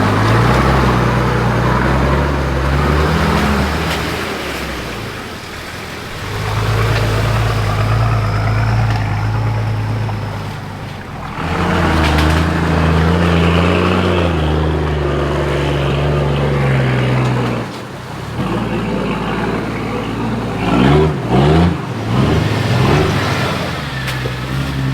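Several 4WD vehicles grind through a muddy off-road track, engines loud and close with rising revs and labouring drones, dipping briefly between passes before surging again.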